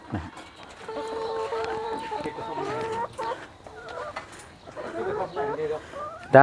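Farm chickens cluck and call in a rapid series of bursts, fairly close, with pauses between flurries and a sharper squawk at the very end.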